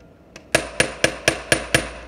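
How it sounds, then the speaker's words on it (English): A hammer pounds the back of a carriage bolt held against a dent in an armor mask on a table: one light tap, then six sharp, loud metallic strikes at a steady, close rhythm of about four per second. "pound it until it comes out"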